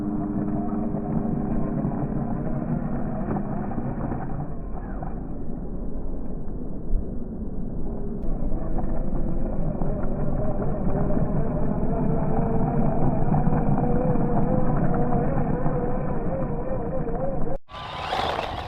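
A cheap Temu RC car driving outdoors, its small electric motor whining steadily over a constant rumbly background, fairly close, with a brief dropout near the end.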